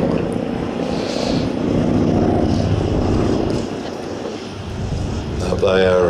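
A propeller aeroplane flies a display at the 2023 Flying Legends airshow with a loud, steady engine drone that swells and eases, and a commentator speaks over it throughout.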